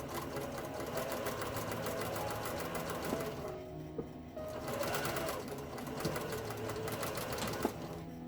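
A sewing machine runs in long rapid bursts, topstitching a face mask, its fast needle chatter steady and close, with a brief pause midway and a couple of small clicks.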